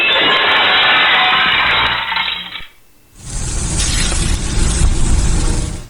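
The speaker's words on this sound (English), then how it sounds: "That's the sound of sizzling, dry-aged USDA Prime Wagyu and Angus steaks" Dry-aged USDA Prime Wagyu and Angus steaks sizzling loudly and steadily, a bright hissing crackle that breaks off briefly and then resumes with a fuller, deeper sizzle.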